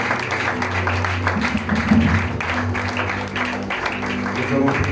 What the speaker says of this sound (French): Put your hands together for his life.